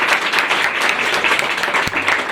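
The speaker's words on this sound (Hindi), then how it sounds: "जोरदार ताली दीजिए परमेश्वर की महिमा के।" A church congregation applauding loudly at a prayer gathering, with dense, continuous, close clapping that fills the whole moment, and no talk over it.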